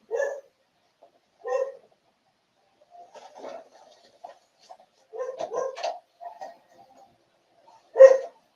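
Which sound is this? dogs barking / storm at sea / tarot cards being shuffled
dogs barking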